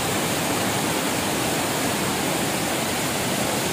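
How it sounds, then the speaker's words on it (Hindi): Tirathgarh waterfall in Bastar roars during the monsoon, a loud, unbroken wash of rushing water filling the whole scene with no voices. "तो तो ऐसा है तीरथगढ़ का वाटरफॉल, देखो कितना खूबसूरत लग रहा है"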